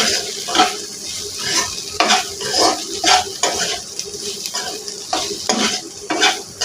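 Curry ingredients being stirred and mixed in a pan, a steady scraping and stirring with a light sizzle throughout, close and fairly loud with rhythmic strokes, no voices.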